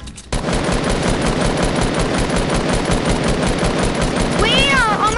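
Rapid machine-gun fire in a console shooter starts abruptly and hammers on in a steady, loud stream of shots for several seconds, with a short whistling squeal near the end.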